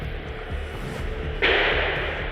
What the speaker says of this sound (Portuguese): Tiro, velho.